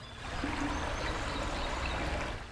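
Water flowing in a video game with heavy reverb, a soft, steady wash like a stream that stays constant and faint throughout, with no speech.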